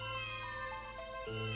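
Cats meowing in the retro RPG Tales of Phantasia, a short synthesized in-game cat cry repeated over a steady tonal music loop, fairly loud and close with no talking.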